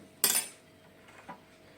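A spoon mixing red food colouring in containers, one sharp metallic clink against the container followed by a softer second tap, close and otherwise quiet with no voices.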